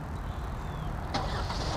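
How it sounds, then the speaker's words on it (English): A 2021 Genesis GV80 with the 4-cylinder engine starts remotely from the key fob: a quiet, steady idle hum is broken by a brief crank-and-catch burst near the end, heard from close by. "So press and hold the remote start. There it goes."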